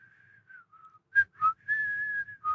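A person whistles a slow, wavering tune alone, with a few short breathy notes and pauses between longer sustained tones.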